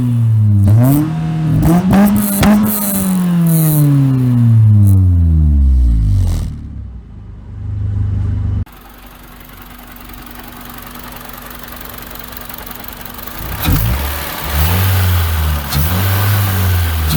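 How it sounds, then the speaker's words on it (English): A 2003 Honda Civic coupe engine cranks and catches, then revs up and down in loud, close sweeps for several seconds before dropping to a steady idle, with another brief blip of throttle near the end. "Clutch is in, we're in neutral, start her up."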